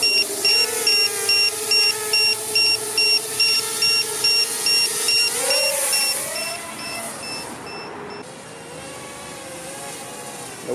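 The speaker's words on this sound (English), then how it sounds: "the alarm, yeah, I can still hear it" An ISDT BC-8S lithium battery checker sounds a loud alarm outdoors as a rapid, regular train of high electronic beeps. A vehicle engine hums and rises beneath it, and the beeping cuts off partway through.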